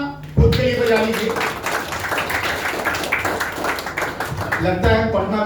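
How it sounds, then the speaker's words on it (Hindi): An audience at a business presentation breaks into loud, steady clapping from many hands, with a voice speaking briefly at the start and again as the applause ends. "चलिए एक जोरदार तालियां खुद के लिए बजा लीजिए।"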